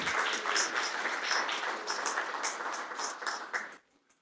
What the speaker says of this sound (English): So a round of applause for Hy-Vee tonight.